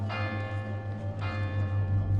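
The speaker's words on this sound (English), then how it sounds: "I hear the tiny bell of the cathedral ringing insistently" A small cathedral bell rings insistently with steady repeated strokes, its sustained metallic tones layered under a low droning hum, heard at moderate loudness with no talking.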